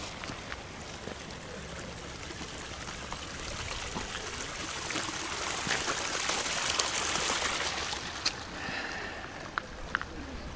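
A mountain stream flowing in the Sierra Nevada near Granada, Spain, a steady close rush and trickle of water that swells slightly midway, with a few sharp knocks near the end and no talk.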